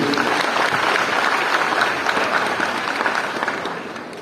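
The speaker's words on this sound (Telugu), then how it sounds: "మా అమ్మగారి కోసం గట్టిగా క్లాప్స్ అనమాట ఈరోజు" Sustained audience applause, a dense wash of many hands clapping that fades slightly toward the end.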